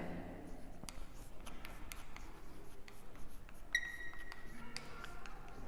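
A pen scratches on paper while a trigonometry solution about a kite's height is written out, with soft, quiet strokes and small taps in short bursts close to the microphone and no talking.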